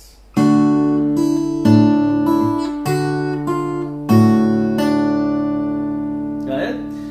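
Acoustic guitar picks two licks of a tune, with clear plucked notes and bass strikes in a bouncy rhythm, closely recorded, ending with a brief string scrape.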